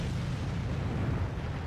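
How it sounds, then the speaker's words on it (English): An artillery shell explodes nearby in the World of Tanks video game, a dense, low rumbling blast that fills the whole short moment at steady loudness. "You can see artillery shell lands right behind me."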